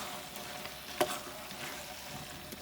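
Turnips, meat and garam masala are stirred together in a pot, giving a quiet continuous sizzle with soft scraping and one brief clink of a spoon against the pot.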